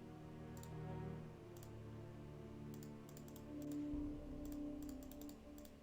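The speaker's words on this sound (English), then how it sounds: "Oh, typing sound." Soft, faint bursts of typing clicks in a Nancy Drew computer game, short clusters of keystrokes spaced apart over a low tonal game background.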